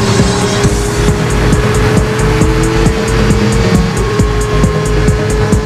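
A car speeds along the German Autobahn, a loud sustained engine and road roar with steady wind noise, close and continuous throughout.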